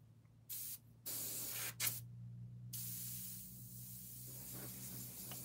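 An airbrush sprays paint onto a Corgi Bedford tractor-unit die-cast model with the air valve turned down, giving steady hissing bursts: two short sprays, then a longer continuous spray, loud and close over a low constant hum.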